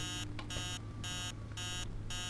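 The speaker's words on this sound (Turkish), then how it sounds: "Alarm çalıyor." Alarm clock ringing in a house at six in the morning, repeated bursts of bright electronic beeping in an even on-off pattern, moderately loud and continuous.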